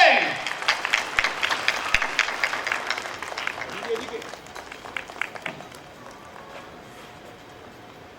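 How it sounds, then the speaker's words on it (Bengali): An audience at the TELE CINE Awards ceremony breaks into loud applause. The clapping is dense at first, then thins and fades away over several seconds. "সবার কাছ থেকে একটা জোরে হাততালি চাইবো"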